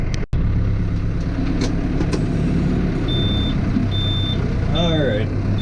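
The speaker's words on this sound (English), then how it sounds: "there goes that super annoying beep that happens every time you take the e-brake off" A tractor's warning beep sounds as its e-brake is released, repeating as evenly spaced steady tones over a rumbling idling engine, with a voice talking briefly near the end.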